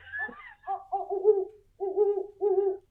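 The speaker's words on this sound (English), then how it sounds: "They do hoot." An owl gives a close, clear series of hollow hoots in a rhythmic sequence of three or four grouped calls with short gaps. No other sound is present.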